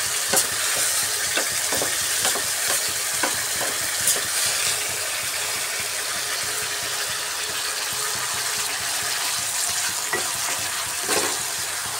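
Shrimp frying in a pan with a steady loud sizzle, punctuated by repeated sharp scrapes and clinks of stirring, with no talking.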